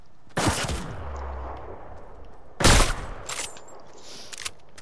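Two sharp, loud sniper rifle shots fire in a video game, the second about two seconds after the first, each with a long, echoing tail and no voices over them.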